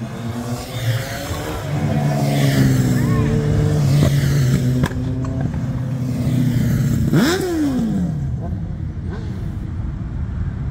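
Motorcycles at a Sunday car meet rev and accelerate past, engine tones rising and falling over steady crowd noise, with a sharp revving sweep near the end and people talking.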